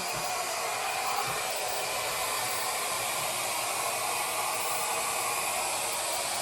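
A Shark hair dryer runs on its low fan and low heat setting, giving a steady, unbroken airy whoosh at moderate loudness from start to end, with no talking over it.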